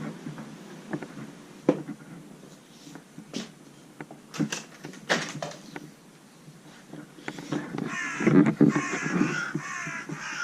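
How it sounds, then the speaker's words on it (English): Crows cawing repeatedly, some near and some farther off, harsh calls scattered irregularly over a quiet outdoor background. "there's loads of fucking crows around making hell of a noise"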